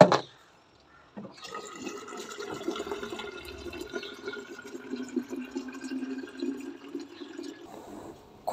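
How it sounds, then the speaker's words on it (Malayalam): Water poured steadily from a pot into a can, a continuous close filling rush with a gurgling, rising tone that runs for about seven seconds after a short silence. "2 ചരുവത്തിലെ വെള്ളവും ഇതിലൊഴിച്ച് നിറയ്ക്കണം."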